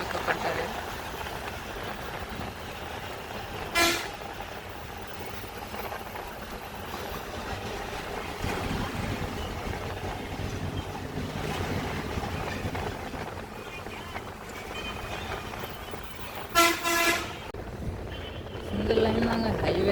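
An express bus picking up speed on a single-lane road between Chidambaram and Palani, its engine and road rumble droning steadily from inside the cabin, with people talking over it throughout.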